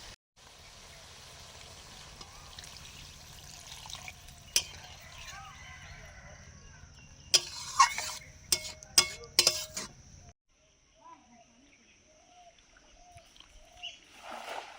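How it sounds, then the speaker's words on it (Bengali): A pot of fish curry with ridge gourd and potatoes sizzles and simmers while a utensil stirs it, giving clustered scraping clinks before the sizzle drops away, with faint voices in the background. "এবার আমি পরিমাণ মতো জল দিয়ে দেবো"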